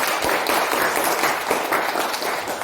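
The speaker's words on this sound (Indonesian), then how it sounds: "tepuk tangan dulu dari secara kelompok" A classroom of students applauding in groups, brisk continuous clapping at close range without talking.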